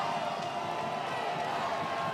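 Football stadium crowd at a Division III college semifinal, North Central against Wartburg, a steady, dense roar of cheering fans building on a big third down, continuous and loud throughout.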